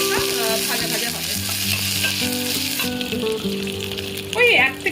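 Cashews, raisins and peanuts sizzling in a pan of hot oil, loud steady frying with stirring scrapes throughout, a faint background voice, and a sharper spatter near the end.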